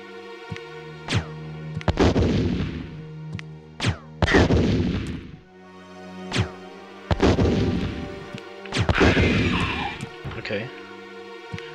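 Explosive rounds fired from a weapon in the Resident Evil video game, several heavy booming blasts spaced a few seconds apart with crumbling, roaring tails, alongside a voice talking.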